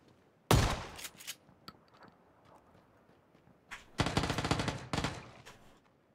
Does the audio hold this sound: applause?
no